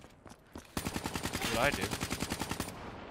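Rapid automatic gunfire in the video game Black Ops 3 rattles out as a loud, evenly spaced burst lasting about two seconds, with someone speaking over it.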